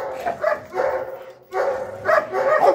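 A dog barks in short bursts close by during a training session, two clusters of rough, mid-pitched barks and yips separated by a brief pause, with no talking over them.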